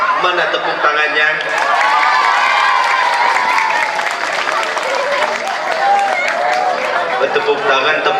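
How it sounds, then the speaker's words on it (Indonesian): Audience applause and cheering break out at an Islamic sermon gathering, a crowd clapping and calling out together, with voices and shouts rising over the clapping for several seconds. "mana tepuk tangannya"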